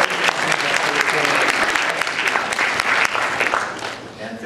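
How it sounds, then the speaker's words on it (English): A room full of people at a science demonstration breaks into a round of applause, loud dense clapping sustained for several seconds with faint voices mixed in, tapering slightly at the end. "First, a round of applause."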